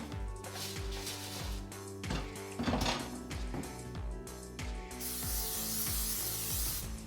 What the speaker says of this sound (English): spray them with a little more cooking spray